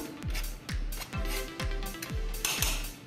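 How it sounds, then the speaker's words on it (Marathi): Baking powder and baking soda mixed into flour in a bowl, with steady repeated thumps and scraping strokes roughly every half second, up close and without talk. "हे आता थोडं मिक्स करून घेऊया"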